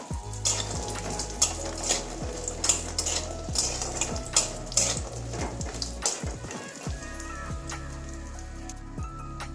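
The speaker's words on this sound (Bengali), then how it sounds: "লাল লাল করে একটু ভাজবো বড়িটা" Bori lentil dumplings fry steadily in hot oil, a dense crackling sizzle with repeated metal ladle scrapes and clinks against the pan, loud and close without any voices.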